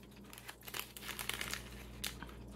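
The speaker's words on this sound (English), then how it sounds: "All right, using the scissors." A Korean chocolate cookie wrapper being cut open with scissors gives close, steady crinkling and crackling of plastic film, with a few sharper tearing snips, and no voices.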